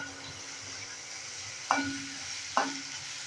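Garlic sizzles steadily in a hot pan, with two brief scraping stirs cutting through the constant frying hiss.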